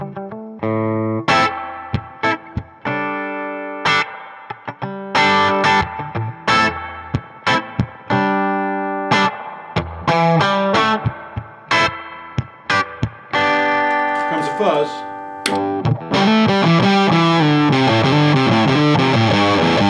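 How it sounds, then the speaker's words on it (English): Single V electric guitar picked in spaced single notes with a clean tone drenched in spring reverb, then switched to a thick fuzz that sustains and smears the notes together toward the end; loud and close, no talking. "I'll play it clean with this spring reverb, and then I'm going to bust in to turn it on a fuzz"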